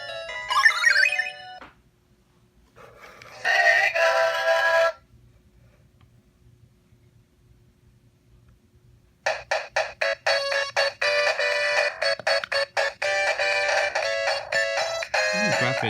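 Sonic the Hedgehog game start-up sounds from a Gamerz Tek MiniGen HD console: a short chiming jingle, a brighter burst of tones, a pause, then a long run of rapid repeated electronic beeps, clear and close.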